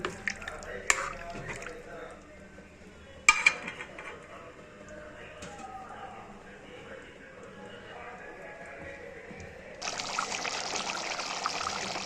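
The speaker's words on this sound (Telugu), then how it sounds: "చింతపండు రసం కూడా వేసేసుకోవాలి" Tamarind juice trickles quietly into a pan of egg curry, a soft pour with faint splashes and a few clinks, then a brighter sizzling hiss rises near the end.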